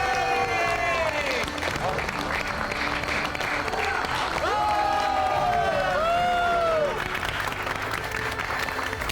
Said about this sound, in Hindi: अरे ताली क्या बजाता है मैन?